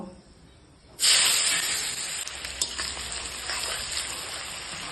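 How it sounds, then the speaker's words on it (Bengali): Chopped onions dropped into hot oil in a wok for a Bengali duck egg curry, a sudden loud hiss that settles into a steady close sizzle with faint stirring, no talk. "পেঁয়াজগুলোকে ভালো করে নাড়াচাড়া দিয়ে লাল করে ভেজে নিতে হবে।"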